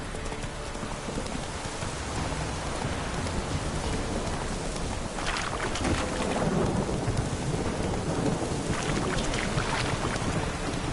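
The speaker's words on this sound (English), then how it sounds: "Lightning strike." Thunder rumbles through steady rain during a stormy scene in a PS4 video game, joined by horse hoofbeats clip-clopping. The mix stays dense and continuous, with no talking.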